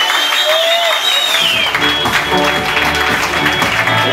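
Applause from the audience at a fashion show in a venue called La Barca, a steady clatter of clapping with a few whistles at the start and music running beneath.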